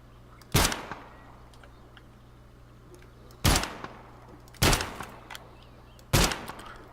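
Gun firing in a video game, four loud, sharp single shots spaced a second or more apart, each with a brief ringing tail over low steady background hum.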